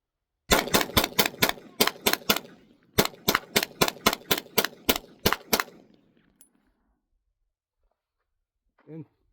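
AR9 rifle with a binary trigger fires two rapid bursts of about eight and eleven closely spaced, loud, sharp shots with a brief pause between them, then quiet until a short voice near the end.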